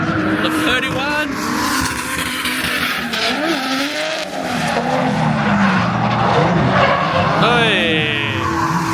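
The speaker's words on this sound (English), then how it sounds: "RB25 in the Skyline, the 31." A Nissan Skyline R31 with an RB25 engine drifts at a weekend drift event, its engine roaring loud and continuous while the tires squeal and skid, with voices talking over the noise.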